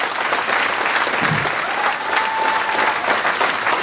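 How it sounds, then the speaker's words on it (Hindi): Steady, dense applause from a seminar audience welcoming a speaker to the stage, continuous clapping filling the whole stretch without pause or voices standing out. "तालियां हो जाए"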